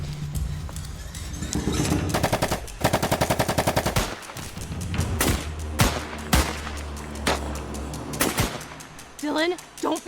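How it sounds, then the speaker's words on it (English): Gunfire in a short film: rapid machine-gun bursts and single shots crack loudly amid a busy action soundtrack, with shouting voices over the shooting. "Shoot him, Cole!"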